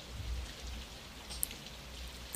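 Steady rain falling outside a window on an autumn night, a soft continuous patter with a couple of brief sharper drips, faint and even throughout with no voices.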